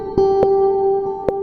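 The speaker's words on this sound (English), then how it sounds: "Echo." Echo effect on a mixed song in Logic, a sustained tone with sharp transients repeating and trailing off in reverberant tails, effect mix set heavy.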